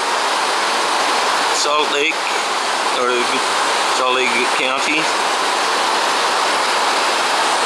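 Big Cottonwood Creek in Salt Lake County flowing beneath a bridge, a steady broadband rush of water running throughout, with someone talking over it in short bursts.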